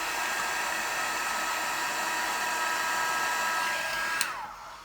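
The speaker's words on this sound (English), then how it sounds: "And then we'll just heat set that last little part." Heat embossing tool blowing hot air over embossing powder on a card, a steady close whooshing fan hum that runs continuously and then cuts off near the end as it is switched off, with no talking.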